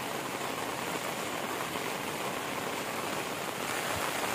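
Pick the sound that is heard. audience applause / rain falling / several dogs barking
rain falling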